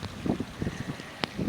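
Breeze blows across open rice fields in the countryside, a soft steady rustle with gusty bursts and one short sharp rattle near the end.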